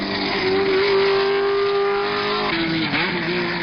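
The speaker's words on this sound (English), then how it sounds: "The red Ferrari 512S leads through the hairpin, followed by Joe Siffert in Porsche number 14." At the 1970 12 Hours of Sebring, a Ferrari 512S and Porsche race cars snarl through the hairpin: a loud, close engine note holds steady, dips sharply on the corner, then climbs again.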